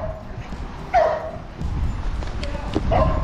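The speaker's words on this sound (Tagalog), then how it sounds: "Dami aso." Dogs barking outdoors in a Philippine neighborhood, two short yelping barks at moderate distance over steady ambient noise and background murmur.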